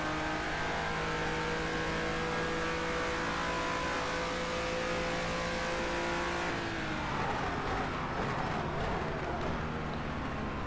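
Race car engines roar continuously in a kart racing video game, with steady mid-pitched droning that shifts to rougher, busier revving and passing cars in the latter half, loud and close throughout.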